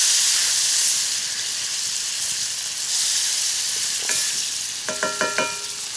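Rib-eye and seafood fry in butter over a campfire with a steady close sizzle and hiss, then a few sharp clinks of metal near the end. No one talks.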